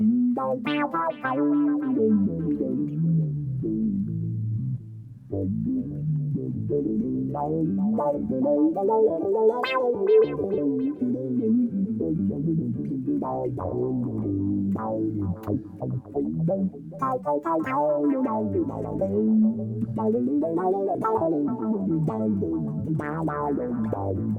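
A sustained synth-like tone from an Eventide H9 or Fractal AX8 guitar effects unit, with a wavering, chorused texture, plays continuously, sliding between pitches at a steady, fairly loud level with no talking.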